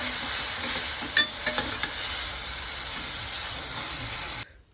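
Finely chopped onion fries in a pan for Kolhapuri-style whole masoor, a constant hissing sizzle with a few light utensil clinks, ending suddenly.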